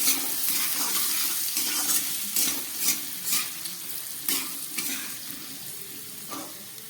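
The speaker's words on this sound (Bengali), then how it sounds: "আলুগুলোকে খুব ভালো করে ভেজে নিলাম।" Potatoes frying in a pan of hot oil give a steady, dense sizzle throughout, close and fairly loud, with a few soft stirring bumps and no speech.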